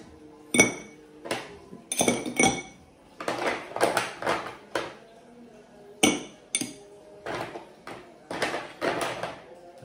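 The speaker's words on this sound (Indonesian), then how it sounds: "Kita siapkan gelasnya. Normal, tetap kita kasih ice." Ice cubes are dropped into a glass while juice is prepared, producing a series of sharp, bright clinks and knocks in irregular bursts, close and fairly loud, with no talk over them.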